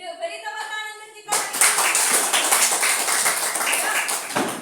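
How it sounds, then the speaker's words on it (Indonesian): A voice speaks briefly, then a grade 4 elementary school class breaks into brisk, dense hand clapping that stays loud and close for several seconds. "Beri tepuk tangan untuk kita."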